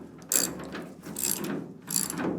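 A ratchet turns a 21 mm nut loose in three bursts of rapid clicking, close and crisp, with short pauses between the strokes.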